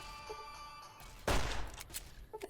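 A single sharp pistol shot in Fallout: New Vegas rings out close and loud amid quiet ambience, followed by a short echoing tail.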